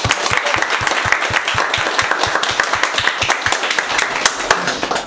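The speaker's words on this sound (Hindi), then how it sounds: "आज के लिए देव सर के लिए भी तालियां और सबके लिए तालियां" Classroom applause for the teacher and the whole class, a dense run of clapping from a group of students with steady rhythmic claps over a few seconds, close and fairly loud.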